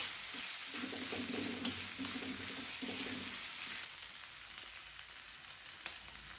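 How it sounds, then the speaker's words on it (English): Chopped onion frying in oil in a pan for sev tomato curry while being stirred continuously: a steady, low sizzle with soft scraping stirs through the first half and an occasional light clink, no voices. "Stir continuously until onion change to color to transparent."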